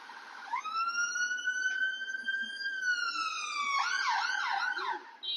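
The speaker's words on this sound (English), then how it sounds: "There's an ambulance." An ambulance siren wails with a long rising and falling tone, then switches to a rapid yelp, fairly loud amid street traffic in Leith, Edinburgh.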